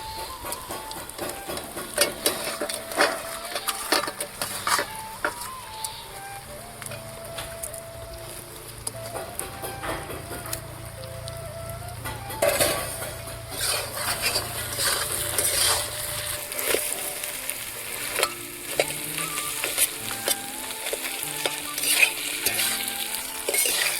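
Fried rohu fish heads are added to a hot pan for muri ghonto and stirred, with a steady sizzle and frying crackle under repeated scraping strokes of a spatula against the metal pan, close and continuous.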